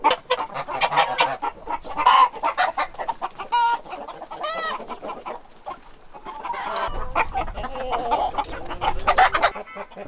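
Native Korean hens and a rooster cluck and call continuously on a mountainside farm, several birds close by with overlapping squawks and a few rising crows.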